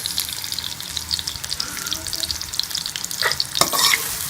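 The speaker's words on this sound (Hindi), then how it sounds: "ये कढ़ाई में मैं घी डालूंगी, इसके अंदर मैं प्याज डाल देंगे।" Onions sizzling in ghee in a kadai, a steady bright frying hiss with stirring scrapes throughout, close up, growing louder toward the end.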